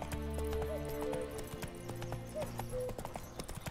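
Horse hooves gallop in The Witcher 3: Wild Hunt, a quick, rhythmic clip-clop with an occasional whinny, set against soft tonal game music.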